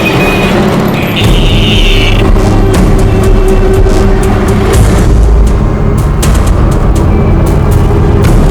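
A car pulls away and revs loudly close by, its engine roaring and rumbling continuously with rising intensity and some knocks, no talking over it.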